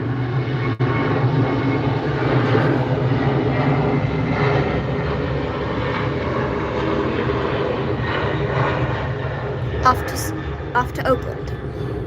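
A Southwest Boeing 737-700 airliner takes off, its jet engines giving a steady, loud broadband roar from start to finish, with a few faint clicks and light handling noises near the recording device.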